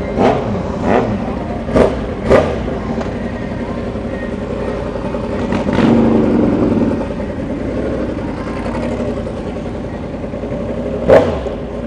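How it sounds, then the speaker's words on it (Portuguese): A V8-powered motorcycle revving loudly at a motorsports meet, with sharp throttle blips and a sustained roar through the middle, close and dominant over background crowd noise. "A bicha berra demais, velho. Essa motor V8"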